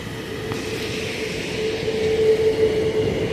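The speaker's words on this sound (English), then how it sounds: "This 2 train is for the Bronx Fulmer." New York City 2 train rumbling past at Simpson Street in the Bronx, a steady broadband roar of wheels and rails with a faint high squeal, close and continuous throughout without any talk.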